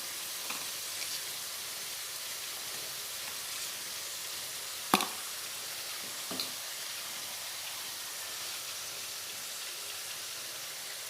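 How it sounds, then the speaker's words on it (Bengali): Vegetables seasoned with salt and turmeric frying in a pan for a Bengali fish head dish, a steady soft sizzle throughout with a couple of brief clinks of stirring, no voices. "দিয়ে খুব ভালোভাবে এই সবজিগুলো ভেজে নেব।"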